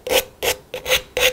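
Sandpaper rubbed over the sharp cut edge of an aluminium drink can, four steady rasping strokes in an even rhythm, close and clear with no talk.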